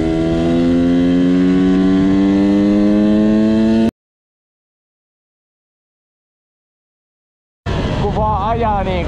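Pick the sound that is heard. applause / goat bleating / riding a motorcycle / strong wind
riding a motorcycle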